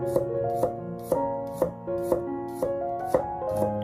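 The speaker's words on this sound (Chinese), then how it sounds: "然后切成蒜末。" A kitchen knife chops garlic cloves into fine mince on a cutting board, about eight crisp, evenly spaced strikes roughly half a second apart over a soft tonal music bed.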